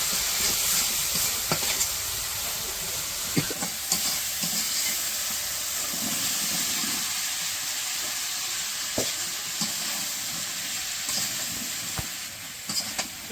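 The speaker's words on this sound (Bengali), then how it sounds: "সবজিগুলো কষিয়ে নেই" Mixed vegetables sautéing in a pan of cooked-down spiced masala in a village kitchen, a steady close sizzle and hiss with occasional scrapes and clinks of stirring throughout.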